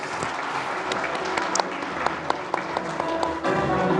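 Applause from an audience at an award ceremony honouring a teacher of underprivileged children, steady and moderately distant, with faint scattered claps and a slight swell near the end.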